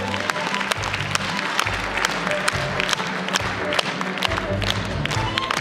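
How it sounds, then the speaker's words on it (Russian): A large audience gives sustained, dense applause at the Bashkir State University Student Spring gala concert, steady and loud throughout with scattered cheers and sharp individual claps. "аплодисменты не смолкают"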